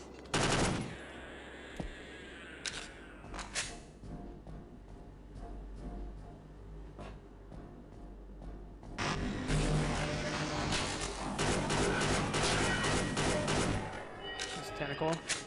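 A submachine gun fires in Half-Life: Caged in loud, rapid bursts, first briefly near the start and then sustained through the second half, with scattered game effects between bursts and a player talking over it.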